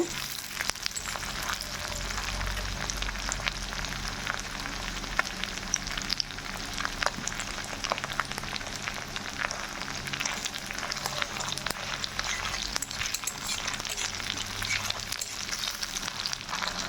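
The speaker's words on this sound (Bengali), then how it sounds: "শীতলটাকে একটু ভেজে নিব।" Sidol, fermented dried fish, frying with onions in a pan makes a continuous close crackle and sizzle with occasional stirring scrapes, steady throughout and free of talk.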